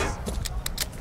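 Quick magazine swap on the Tyr in a first-person shooter match: a brief run of metallic clicks and rattles, close and fairly loud, over a low battlefield rumble.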